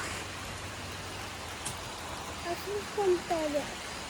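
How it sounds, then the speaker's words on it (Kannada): Rain falls heavily and steadily as an even hiss throughout, close and continuous, with a brief, faint voice-like tone near the end. "ಇನ್ನು ಮಳೆ ಅಂತೂ ನಿಂತ್ಕೊಳ್ಳಲಿಲ್ಲ, ಇನ್ನೂ ಜಾಸ್ತಿ ಜೋರೇ ಆಗೋಯಿತು."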